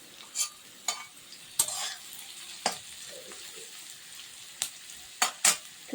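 Potatoes fry in a pan at home while being stirred, with soft steady sizzling broken by several sharp scraping and clinking hits of the spoon against the pan, close and fairly quiet.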